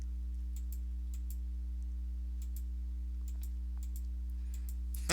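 Sparse, light computer mouse clicks while working through a math practice exam, each a faint tick over a steady electrical hum, with no talking.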